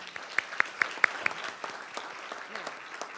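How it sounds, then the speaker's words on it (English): Applause at a city commission meeting, a few sharp close claps standing out early over a softer spread of clapping from the room, tapering toward the end. "Let's give him a round of applause."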